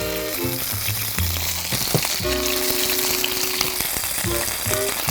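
Loud, steady sizzling of starch-coated shrimp pan-frying in hot oil over high heat, with occasional clinks and scrapes of tongs against the pan.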